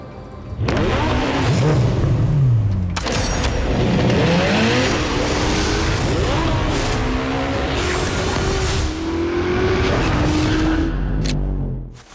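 A Ferrari SF90, a 2019 mid-engine plug-in hybrid sports car, roars loud and close, revving up through rising gear pulls with sharp shift breaks before cutting off at the end.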